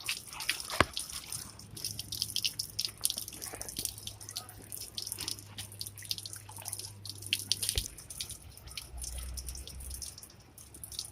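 Water running into a lotus pot on a terrace, a faint steady trickle with scattered drips and splashes, no talk.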